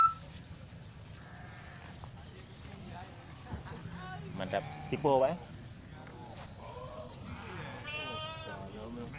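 Goats, including one resembling a Boer goat, bleat at a livestock market before a sacrifice festival; a couple of distinct bleats rise midway and near the end among background animal noise while someone talks.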